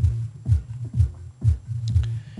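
Low bass from a subwoofer fed by a three-way crossover, deep pulsing thumps repeating roughly every half second in a steady groove, with only faint higher sounds above.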